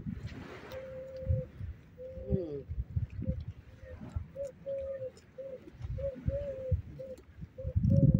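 Near the sea, a man imitates a pigeon with a series of short, evenly spaced cooing notes, repeated more than a dozen times over steady background noise and low rumble.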